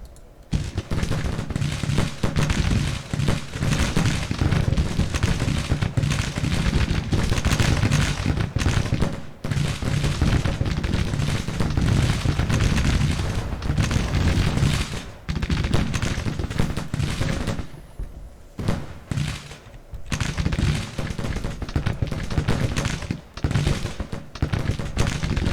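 Rifle fire from skirmishing pickets in the Civil War strategy game Grand Tactician, a dense, continuous crackle of overlapping shots and volleys at steady loudness, with brief thinner lulls partway through.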